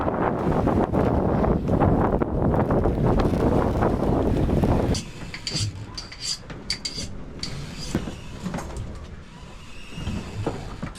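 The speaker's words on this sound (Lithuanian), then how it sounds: "Vėjas taip apie 15 mazgų, plaukiame Bakštago kursu." Wind roars across the microphone aboard a sailboat running at about 15 knots on a broad reach in choppy seas. A heavy, loud rumble dominates at first, then drops to a lighter rush with occasional small knocks and clinks.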